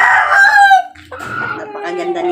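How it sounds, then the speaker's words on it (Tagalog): A broodcock rooster weighing about 2 kilograms crows loudly and close by in one long, rising and falling call. Quieter clucking and bird calls follow it. "At napakagandang broodcock yan."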